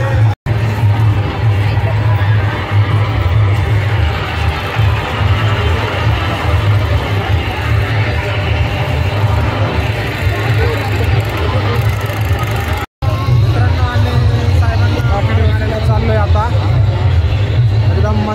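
A dense crowd fills Pune station during Bhim Jayanti celebrations, a constant loud hubbub of many voices blended with idling vehicle engines, with a nearby voice talking over it.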